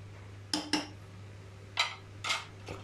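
Metal pot lid set onto a cooking pot of bopis, a few sharp clanks and taps spaced across a couple of seconds, close and fairly loud over a steady low kitchen hum.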